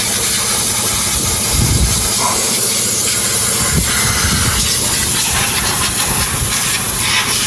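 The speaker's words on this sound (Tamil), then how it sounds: "இன்ஜின் பட்டி வந்து கலவுறாங்க" A steady, loud hiss of a high-pressure water spray washing a car engine, with a low rumbling underneath, continuous throughout without voices.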